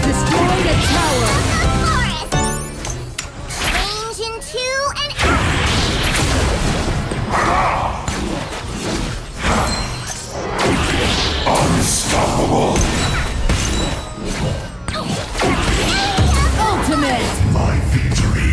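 Arena of Valor gameplay bursts with crashes, thuds and impact effects as a tower is destroyed, dense overlapping battle sounds mixed with an announcer voice and other game voice lines throughout.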